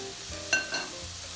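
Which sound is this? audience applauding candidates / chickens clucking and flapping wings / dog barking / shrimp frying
shrimp frying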